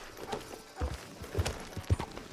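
Horse hooves clip-clop in Red Dead Redemption 2, a few heavy, evenly spaced thuds close by over soft background noise.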